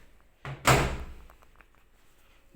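An LG washing machine door swung shut during a repair, one solid thunk with a short latch click just before it, then quiet with faint handling noises.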